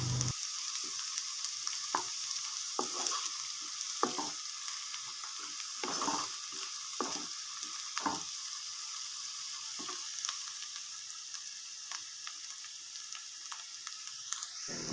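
Curry sizzling in a pan with coriander powder added, a continuous bright hiss of frying punctuated by irregular scraping strokes of a spoon stirring, steady throughout and fairly close.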